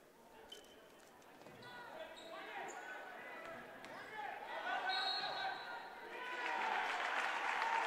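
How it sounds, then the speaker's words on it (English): Basketball fans at a boys' high school game between Penn and Carroll give a brief sarcastic cheer after a moving-screen call, crowd noise rising over a gym with a ball bouncing and commentary talk over it. "a little sarcastic cheer from the fans"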